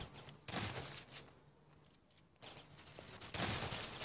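Shotgun blasts ring out in a video game, two loud bursts of gunfire with a sustained crackling roar, separated by a quieter stretch of background game noise.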